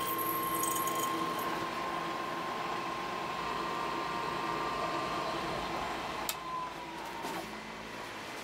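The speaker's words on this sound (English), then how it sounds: "I'm just gonna cross drill and tap this way." A machine spindle hums steadily with a faint whine as a metal part is cross drilled and tapped in a workshop, a continuous drone with a brief clink near the end and no voices.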